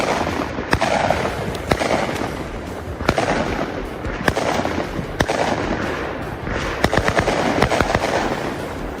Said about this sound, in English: we got Yoda on a nice firework